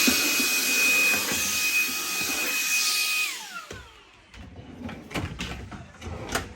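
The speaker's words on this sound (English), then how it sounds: "my little free find vac came in handy" A small vacuum cleaner hums loudly and steadily while dusting, its motor winding down, then several clunks and knocks follow.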